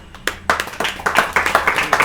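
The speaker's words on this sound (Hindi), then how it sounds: "ताली बहुत बजाते हैं यहाँ पे" An audience at a devotional talk claps in a ragged, close burst that settles into a quick rhythmic beat, loud and without speech.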